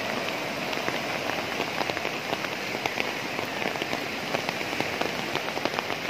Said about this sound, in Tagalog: Napakalakas kasi yung ulan ngayon mga tol.